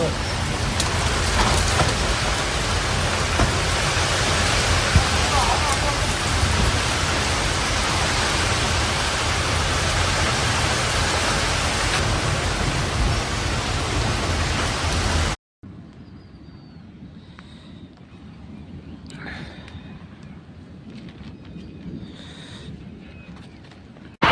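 Heavy, steady rain in Karimnagar pours down loudly and continuously, then drops to a quieter, more distant patter of rain with scattered drips.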